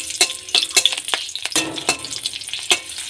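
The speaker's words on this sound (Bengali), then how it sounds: "এবার এই তেলের মধ্যে আমি 4টে চেরা কাঁচা লঙ্কা দিয়েছি।" Four slit green chillies frying in hot oil for a vegetarian banana-flower dish give a close, steady sizzle, broken by sharp scraping stirs at a loose, irregular rhythm; nobody speaks.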